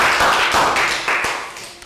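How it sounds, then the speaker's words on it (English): Young schoolchildren clap together for a classmate in a classroom, a dense burst of close applause that tapers off over about two seconds. "Round of applause for Ned."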